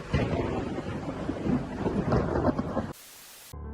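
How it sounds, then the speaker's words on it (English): A deep, rumbling thunderclap during a storm with rain and gusting wind, loud and close, rolling for a few seconds before cutting abruptly to faint hiss. "Lightning and thunder are captured at the exact moment by this young woman."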